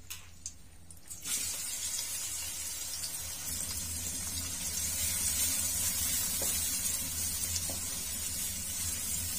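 Finely chopped onions hitting hot mustard oil in a wok burst into a loud, steady sizzle after a brief quieter moment, the hissing fry continuing evenly without voices.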